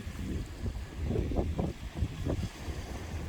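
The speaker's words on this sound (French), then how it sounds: "il y a un peu de vent là" Gusty wind on a beach buffeting the microphone, with low rumbling bursts that rise and fall over a steady airy background.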